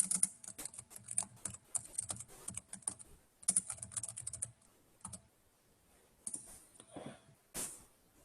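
Code is typed on a computer keyboard in quick irregular bursts of close key clicks, with short pauses between runs and one sharper tap near the end.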